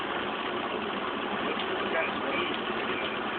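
A 1919 Cadillac engine with two water pumps idles steadily, giving an even, close mechanical churn and a faint ticking rhythm that holds without letup.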